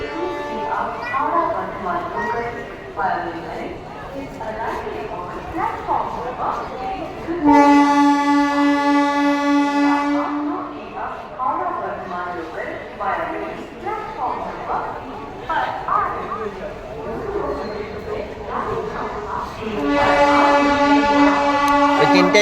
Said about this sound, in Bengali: ওই ট্রেনটায় যাবি?